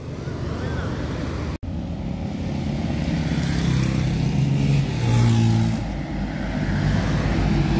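An Epastar intercity bus from Padang passes along a roadside, its engine swelling into a loud, close rumble with steady road noise around it, broken by a brief dropout early on.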